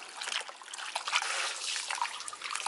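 Sliced bamboo shoots for pickling are washed in water, with close, continuous trickling and light splashing throughout.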